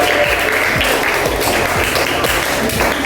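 Steady applause from a class, dense and continuous clapping at a constant level throughout, with no voices standing out.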